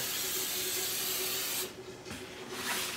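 Hairspray from an aerosol can hissing steadily onto a sanded, weathered Star Wars Sandtrooper helmet, one long continuous spray that breaks off briefly and then resumes, close and fairly loud.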